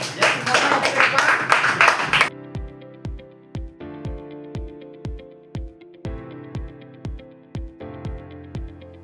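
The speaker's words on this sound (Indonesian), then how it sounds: "Tepuk tangan untuk kelompok Venus" Classroom applause for a student group: a dense burst of clapping for about two seconds, which then cuts off and gives way to a plucked melody of evenly spaced notes.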